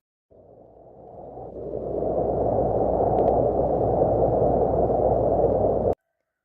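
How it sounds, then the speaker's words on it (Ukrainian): Wind blows as a steady, hollow rushing that swells in over the first two seconds, holds strong and even, then cuts off abruptly, with no voices. "Це звук вітру."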